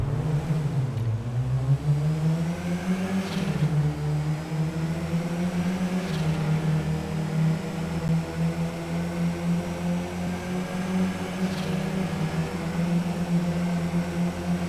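Race cars launching together from the start line in GTA, a loud continuous engine drone with rising revs and layered harmonics as the pack accelerates, steady and dense throughout with no talk.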